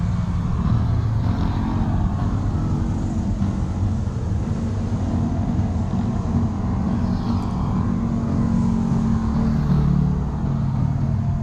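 Cars driving past on a curving mountain road along the Marilaque highway, a continuous low engine and tire rumble that rises and falls as vehicles go by, with no talk.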